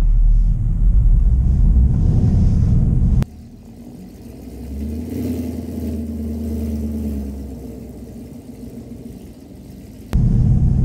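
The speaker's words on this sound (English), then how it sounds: "Car is fishtailing, it's not making it." A car on bald snow tires in snow mode labors up a snowy driveway, its engine droning and revving as it fishtails, with rumbling wind-buffeted noise at the start and end around a quieter, steadier engine hum.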